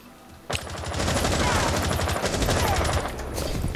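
Rapid automatic gunfire rattles in the shooter game Rainbow Six Siege, a loud, dense burst of shots starting abruptly and running continuously for about three seconds, close and dominant.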